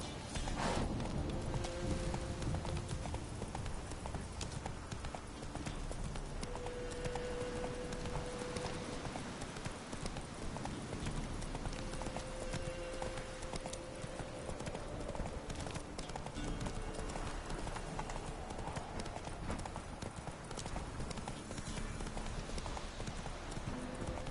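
Horse hooves gallop steadily in the video game Witcher 3, a continuous rapid clip-clop layered over a moderate ambient bed, with occasional tonal hums underneath.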